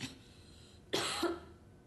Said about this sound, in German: Mal kräftig husten.